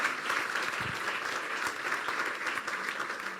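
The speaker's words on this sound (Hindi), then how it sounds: "अपने लिए तालियां बजा दे फिर।" A church congregation at a Hindi-language sermon breaks into steady, dense applause that holds throughout, many hands clapping together at close range.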